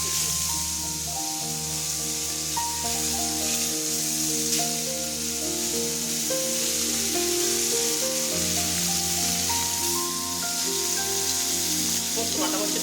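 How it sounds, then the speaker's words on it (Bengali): Pieces of bata fish coated in salt and turmeric frying in hot oil on a tawa, giving a steady close-up sizzle and hiss throughout, with melodic background music playing underneath. "এখন আমরা এই গরম তেলের উপরে লবণ হলুদ মেখে রাখা বাটা মাছের পিসগুলো"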